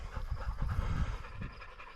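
Tired hunting dogs panting hard after a day of sharptail grouse and Hungarian partridge hunting in Montana, a steady rapid close breathing rhythm with no talk.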